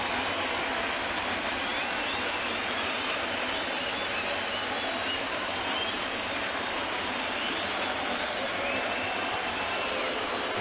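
A large crowd of about 37,000 at a night baseball game makes a steady, distant roar of cheering and applause that continues evenly throughout.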